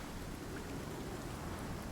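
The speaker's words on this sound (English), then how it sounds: "Oh, we got showers, which means our cooking stopped." A video game rain shower hisses as a steady, soft wash of noise that stays even throughout, heard fairly faint without distinct drops.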